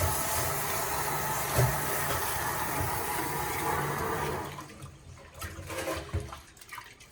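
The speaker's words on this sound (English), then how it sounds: "Then we try to pour some water." Water pours and rushes steadily over rice being washed during cooking, then stops and gives way to a few scattered handling noises and clinks.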